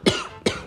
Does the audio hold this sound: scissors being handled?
no